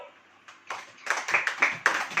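A church congregation claps in a quick, uneven series of hand claps that builds from a few scattered ones into a louder, steadier group burst.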